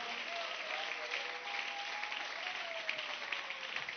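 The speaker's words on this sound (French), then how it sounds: "Est-ce qu'on peut acclamer le roi des rois?" A church congregation applauding and cheering to praise the Lord, a dense continuous wash of clapping with a faint sustained vocal tone running underneath.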